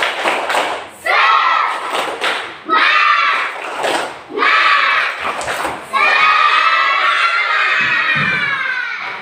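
A group of children in a classroom join in a rhythmic spirit clap, their claps and loud shouted chanting filling the room in steady bursts.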